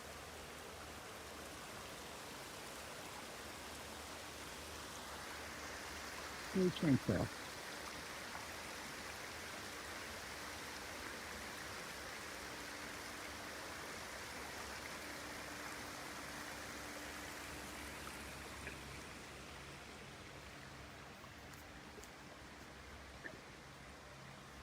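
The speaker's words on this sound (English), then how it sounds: "Waterfall." A small waterfall in a water garden gives a steady, soft rush of falling water throughout, with a short burst of talk early on.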